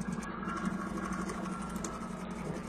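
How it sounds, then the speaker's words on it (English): A sewing machine runs steadily at close range, stitching a paper-pieced quilt block along a sewing line. It gives a continuous, even mechanical whir with a fast rhythmic chatter and no speech. "put it under the machine like this so that I can sew right along that sew line"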